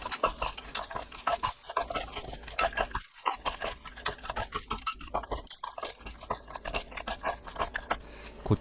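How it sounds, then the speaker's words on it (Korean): Dried baby hairtail is stirred and tossed with mirin in a pan with the heat off, giving continuous close scraping and clattering of a utensil against the pan, steady and busy throughout, with no voices. "골고루 버무리세요."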